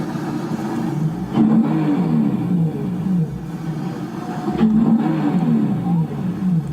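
A racing car with a turbocharged engine drawing up alongside another car, a loud, steady low engine roar that swells twice as it revs and pulls level, close by, with no talk.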